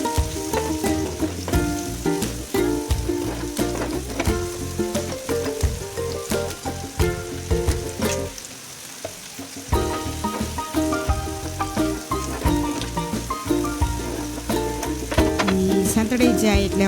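Finely chopped chillies and onions sauté in a pan for tava pulav, giving a steady sizzle throughout that sits partly beneath prominent background music.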